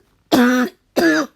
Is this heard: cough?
yes